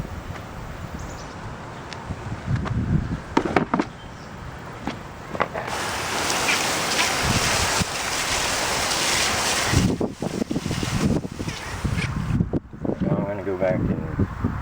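Water sprayed onto a pitted chrome wheel during cleaning, loud hissing bursts of spray that start and stop, with one long continuous blast in the middle and brief talk between sprays.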